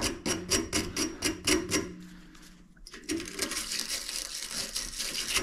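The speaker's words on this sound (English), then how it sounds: "take your wire brush here. This one's made by HDX. And just get out any of the burrs that are in the pipe." An HDX wire brush scrubs inside a cut length of 1/2-inch copper pipe in quick rhythmic back-and-forth strokes, a gritty scraping pulse that breaks off briefly and then resumes as a denser, continuous rasp.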